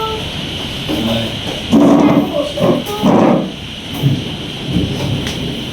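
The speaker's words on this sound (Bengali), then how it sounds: "তুফানটা একটু কমছে, ঝড় বৃষ্টিটা একটু কম" A night thunderstorm with rain brings a steady wash of rainfall and several low rumbling bursts of thunder, with a dog barking faintly at times.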